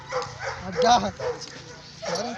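An angry Kohati Gultair dog in Faisalabad growls and barks in short, close bursts, with a low rumbling growl running underneath and yelping peaks between them.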